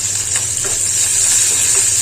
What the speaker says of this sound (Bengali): রসুনটা সুন্দরভাবে ভাজা হয়ে যাক,